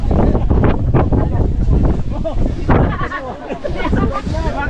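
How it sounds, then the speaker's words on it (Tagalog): Strong wind buffets the microphone in loud, rough gusts while people talk over it. "Lakas ang hangin eh."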